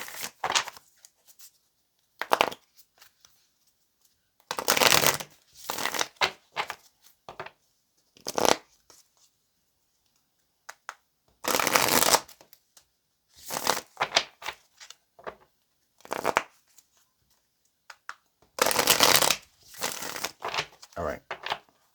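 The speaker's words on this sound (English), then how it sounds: "let's go ahead and pull some tarot" Tarot cards being shuffled in repeated bursts of riffling and flicking with short pauses between, close and fairly loud, with no talking.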